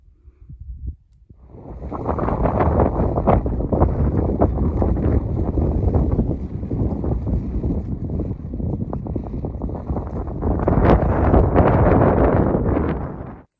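Strong wind buffets the microphone in a loud, steady roar above tree line on a mountain on the Appalachian Trail, swelling again near the end, with nothing else audible.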